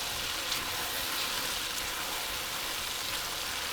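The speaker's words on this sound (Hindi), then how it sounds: "प्याज के साथ हम इसमें शामिल करेंगे 2 अदद टमाटर और इसको हम तोरियों के साथ भून लेंगे।" Sliced zucchini (turai) with onion, tomato and green chilli fries in oil in a pan, giving a steady bright sizzle throughout without pauses.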